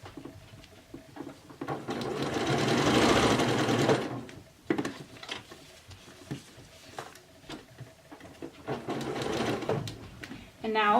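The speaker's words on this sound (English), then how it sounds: "I leave the pins in when I sew." A sewing machine stitches through layers of a cloth diaper with pins left in, running in several loud bursts of fast, steady whirring broken by short pauses, fabric shuffling and clicks.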